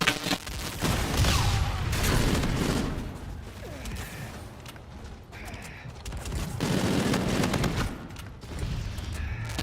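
Rapid bursts of OSA assault rifle fire from Call of Duty: Infinite Warfare, loud and close, with sustained automatic volleys and short pauses between them.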